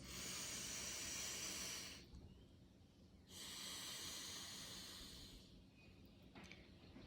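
Forceful exhales through the left nostril during Breath of Fire breathing practice come as long, airy hisses, close and fairly loud, with short pauses between breaths.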